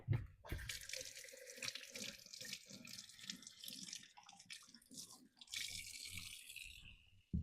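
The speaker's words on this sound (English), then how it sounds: "and under cold water we go" Water runs from a kitchen tap in a steady splashing stream, broken up as something is held under it, with no talking.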